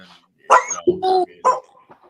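A dog in the background gives a few short barks and yelps in an uneven burst, fairly close and clear, with no talk over it.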